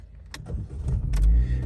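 A 2011 European-market Chevrolet Cruze being entered and started: scattered clicks and clunks of doors and the key going into the ignition, then a low engine rumble rising and settling as it fires, heard close inside the car.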